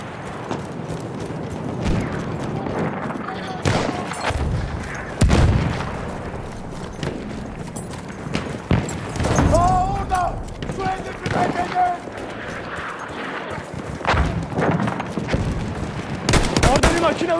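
Battlefield 1 Conquest gameplay on PS4 with scattered gunfire bursts, including machine gun fire, thuds and explosions over a busy battlefield, while a voice talks throughout.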